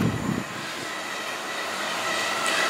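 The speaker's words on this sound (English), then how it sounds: "this is our next train now, not just back to Cardiff but through to Penarth" A passenger train runs steadily on the line toward Penarth near Cardiff, a continuous close rumble and rail hiss with no talking.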